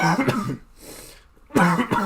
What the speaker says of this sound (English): I'm sorry about this cough